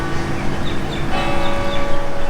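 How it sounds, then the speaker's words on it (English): The bell in the Victoria Theatre bell tower in Singapore rings at ten in the morning, with faint repeated tolls ringing out over steady city and traffic noise. "And you can hear the bell up in the bell tower."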